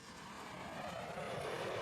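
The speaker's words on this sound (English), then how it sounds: "Airplane." An airplane drones in a short sound effect, a steady low engine roar that swells slightly as it passes, with no talk.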